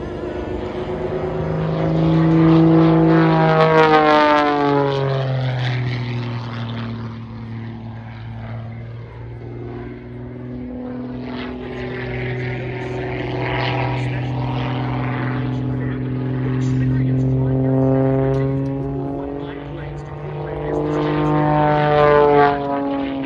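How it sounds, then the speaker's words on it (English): A propeller trainer airplane roars overhead during an airshow aerobatic display, its engine pitch rising and falling repeatedly as it climbs, dives and swoops through maneuvers, loud and fairly close. "we're in for a display of aerobatics of this classic Airshow airplane"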